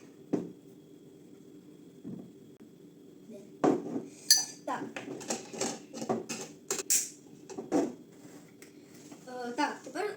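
Spoon clinking against a cup while stirring a hot drink of cream, a little coffee and boiling water, sharp light taps scattered over several seconds under a background hum.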